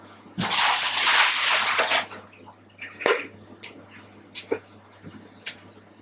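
Blanched celery drains in a strainer after a cold-water rinse, a brief splashy pour of water followed by scattered drips and small ticks as it settles, close and alone.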